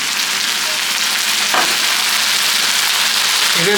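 Onion paste sizzling steadily in a hot pan during the cooking of tawa chicken, a dense continuous crackle throughout with one brief stir sound near the middle and no talking.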